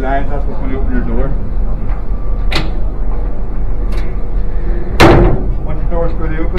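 A liferaft container door on a ship's marine evacuation system pops open after its lines are pulled, giving a few sharp knocks and a loud clunk while someone talks over it.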